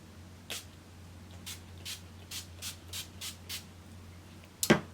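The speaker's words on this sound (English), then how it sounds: "now I'm gonna spray my face." Short bursts from a setting-spray bottle misted onto a face, about seven evenly spaced hissing puffs close to the microphone in a quiet room, then a brief louder knock at the end.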